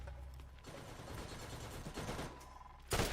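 Turret gunfire in a first-person shooter played on a Steam Deck: a rapid, dense burst of mechanical shots rattling steadily for about two seconds, fairly quiet, then ending in a sharp louder blast.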